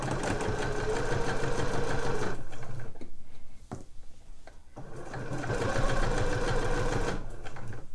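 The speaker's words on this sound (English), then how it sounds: "we're now going to stitch all the way around here. 1 centimetre seam allowance, back stitch to begin with." A sewing machine stitches the seam of a fabric slipper boot at a 1 cm seam allowance, a loud, steady, rapid mechanical whir that halts for about two seconds with small clicks, then runs again.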